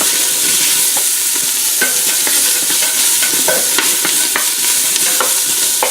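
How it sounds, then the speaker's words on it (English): Chunked white onion pieces frying in a hot pan for chile verde stew, a steady loud sizzle with repeated scraping and stirring clicks, close up and with no talking. "I'm going to add in 1 white onion that I just chunked up into 1-inch pieces. And start stirring that around."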